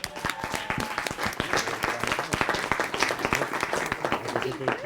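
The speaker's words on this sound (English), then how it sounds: "Round of applause to that." Applause at a city council meeting marking a resident's 97th birthday, sharp individual claps from a small room of people, with talk over part of it.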